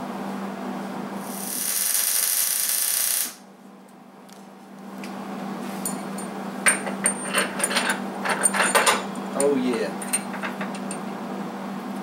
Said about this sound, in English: so I'm starting to weld it now